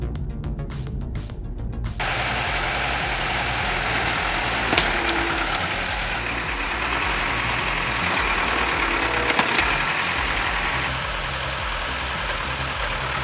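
A Belarus T40 tractor engine runs steadily at a low, rumbling idle, loud and constant throughout, with a brief rattling onset at the start.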